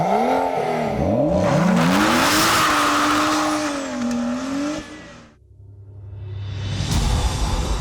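Roding Roadster sports car driving, an engine revving up and down with rising and falling pitch as the car accelerates past close by, fading briefly before the engine note swells again.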